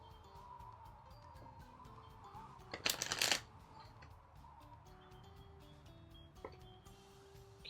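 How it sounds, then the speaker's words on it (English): A Lenormand card deck is riffle-shuffled once in a quick, crisp burst of flapping, with quiet room tone before and after. "So I'll shuffle the deck twice."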